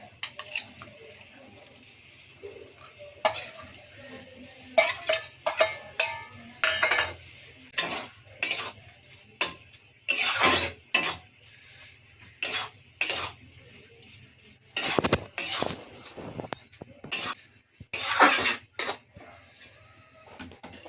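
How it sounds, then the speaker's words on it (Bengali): Crushed peanuts go into a pan of fenugreek greens, followed by a long run of sharp metal spoon scrapes and clinks against the pan, coming in irregular close bursts with quieter gaps between. "এখন যে বাদামটা কুটিয়ে নিয়েছিলাম ওটা ঢেলে দিচ্ছি"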